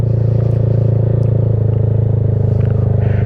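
Motorcycle idling along in first gear under light throttle, a steady low engine drone with even pulsing that stays loud and close throughout, with faint clatter on top.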